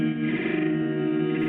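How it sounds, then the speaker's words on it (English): Guitar chords played in reverse and glitched, a dense, swelling wash of effected, chorused tone with heavy distortion and reverb filling the whole short stretch without pause. "So I introduced the guitar chords by having them be reversed,"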